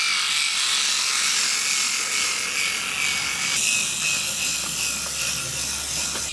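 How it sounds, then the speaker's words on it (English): Motorized Thomas-style toy train fitted with a jet engine, whirring steadily as it runs around a test track; a continuous buzzing gear drone throughout, close and fairly loud, with a slight shift in tone partway through. "it makes a whirring sound as it goes around"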